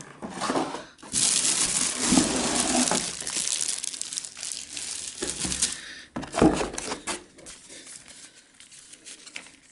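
Philips HD7459/20 coffee maker being unboxed, with close, bursty crinkling and rustling of packaging material and brief tearing sounds, loud then quieter toward the end.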